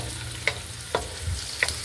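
Spare ribs frying in a pan with tomatoes for adobong kangkong: a steady close sizzle with a low hiss underneath, broken by a few brief scraping stirs, no one speaking.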